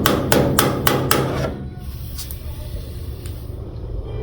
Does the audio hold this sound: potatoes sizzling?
no